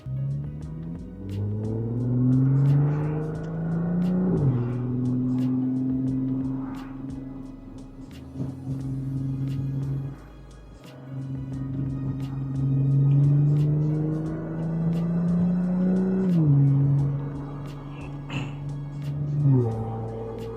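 A 400 hp supercharged Audi S4 engine heard from inside the car while driving with windows cracked, a loud droning note rising through the gears with repeated shifts, steady rumble and no talking.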